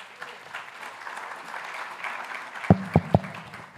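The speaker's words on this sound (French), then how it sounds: "avec M. Farrell, sous vos applaudissements, s'il vous plaît." A short burst of applause from a conference audience greeting a panel on payment system digitalisation, with a few sharp claps standing out near the end.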